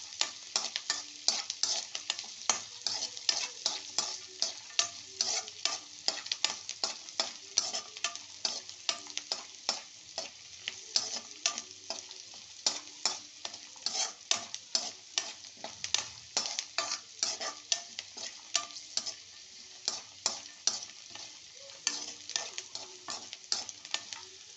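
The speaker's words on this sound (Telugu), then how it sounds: "పల్లీలండి ఎర్రగా వేగాలి." Peanuts frying in oil in a pan while being stirred, a steady close sizzle broken by rapid scraping and clinking stir strokes all the way through, with no voices.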